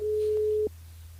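A steady telephone line tone hums while a radio show calls a listener back through the station switchboard, holding for about two-thirds of a second before cutting off abruptly into low line hiss.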